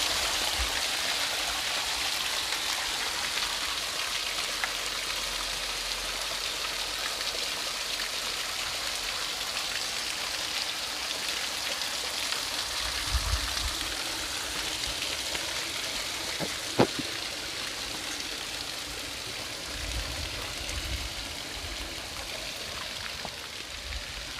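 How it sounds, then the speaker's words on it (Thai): A spring-fed stream flowing down from the mountains runs steadily nearby, a continuous broad rushing and trickling of water with occasional faint splashes and knocks. "นี่ครับน้ำที่ไม่เคยแห้งครับ ลำธารนี่ก็ไม่แห้งครับ ธารนี่ไหลมาจากภูเขานะครับ"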